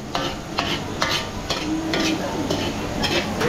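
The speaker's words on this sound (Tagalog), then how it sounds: "gigisa muna natin bawang sibuyas" Garlic, onion and meat sauté in a pan for a big catering batch, a steady sizzle broken by regular scraping stirs roughly every half second, close and clear.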